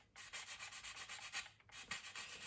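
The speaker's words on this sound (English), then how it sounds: "I'll start off with like a sanding stick and I'll knock down" A sanding stick rubs back and forth over the plastic surface of a Tamiya 1/48 F4U-1A Corsair model kit, quiet close-up scratchy strokes in a steady rhythm.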